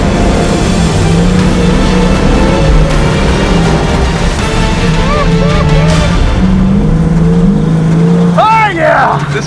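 A loud dirt race car engine revs and roars continuously, with rising and falling pitch and excited shouting over it.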